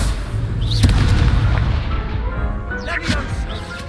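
A Confringo fire spell in Hogwarts Legacy bursts as a loud, blunt blast with crackling fiery debris. Whooshing, magical flourishes follow over a continuous rumble, with a voice faintly underneath.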